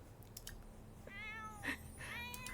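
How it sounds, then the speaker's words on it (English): A cat meows twice in The Sims 4 video game, short mid-pitched calls over quiet game ambience, fairly soft and with no talking. "We have a cat now."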